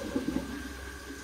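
Water driven by an EMP electric pump rushes straight through a modified GT500-style heat exchanger fitted with 1-inch bungs and tubes, a steady, loud flowing wash with a low rumble and no talking.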